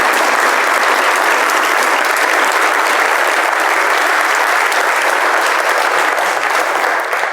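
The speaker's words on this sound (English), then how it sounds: "please give an applause to South Africa" An audience at a talk on Palestine and the war in Gaza breaks into loud, sustained applause, a dense, unbroken wash of clapping that holds steady throughout.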